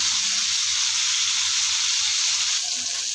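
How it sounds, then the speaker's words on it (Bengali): Pieces of pona fish fry in hot oil in a pan as they are turned over, giving a loud, dense, unbroken sizzle throughout. "মাছগুলো আস্তে আস্তে উল্টে দেবো।"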